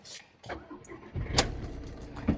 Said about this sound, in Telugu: ఇంజిన్ కూడా స్టార్ట్ చేసి చూపిస్తున్నాను చూడండి